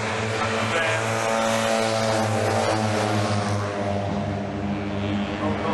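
Citroën 2CV race cars at Oulton Park sweep past in a loud, steady engine drone with strong low harmonic hum, the sound holding throughout and shifting slightly in pitch as the field passes.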